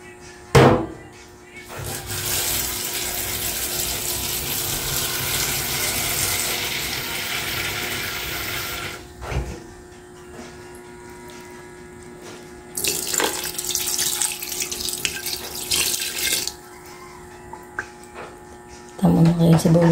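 Tap water runs into a cooking pot for stewing carabao meat for beef steak, with a long steady gush, a pause, a second run, and a final burst starting at the end. A voice speaks briefly in between.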